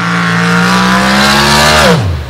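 A 454-cubic-inch AMC engine in a Jeep CJ7 roars hard off the start of a dirt-track nitrous race, holding a loud steady high-revving pitch before dropping sharply as the throttle lifts.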